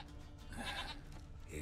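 A goat in The Witcher 3: Wild Hunt gives a single drawn-out bleat at middle distance, heard over a steady game-world ambience.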